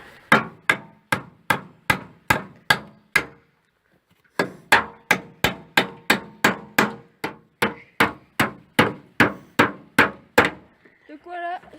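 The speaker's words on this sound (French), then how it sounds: "Il plante le clou." Steady hammer strikes drive a nail into wood while building a cabin in the woods, about two dozen sharp, evenly spaced blows split by a brief pause, close and loud.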